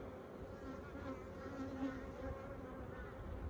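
Honeybees in an open Flow Hive 2 at Orara Valley in January hum as a steady, even drone of many wings close by, with no talk.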